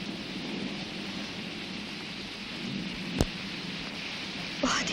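Heavy rain pours steadily as a dense, continuous hiss with a low rumbling undertone, broken by one sharp crack midway and a brief louder splash near the end.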